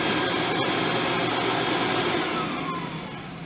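A loud, steady motor whine and vacuum roar from an Advance Selectric 20E automatic floor scrubber runs continuously, close by, fading slightly at the end.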